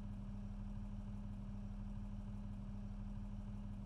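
A tractor engine idles steadily in the Cattle and Crops video game, heard from inside the cab as a constant low drone with an even rumble, alone and unchanging throughout.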